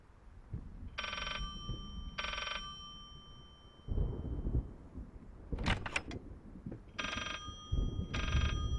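A telephone rings from inside a cupboard in the horror game Layers of Fear, four muffled double bursts in a regular pattern, with footsteps and game noises between.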